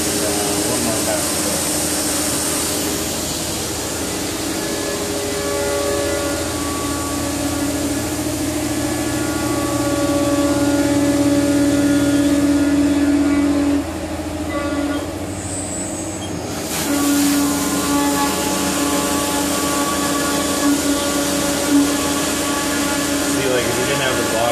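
A Haas VF2SS CNC mill running a machining pass, a loud steady mechanical whir with sustained tonal whines that shift partway through, briefly dipping before resuming, with a voice speaking over it.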